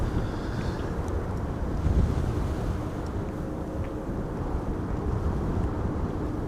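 Strong wind at Amsterdam Schiphol Airport buffets the microphone in a constant loud low roar, with gusty rumbling and no clear speech.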